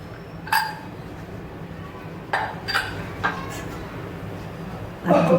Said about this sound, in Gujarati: હવે કુકરને એક સીટી થઈ ગઈ છે હવે આપણે ખોલી લઈએ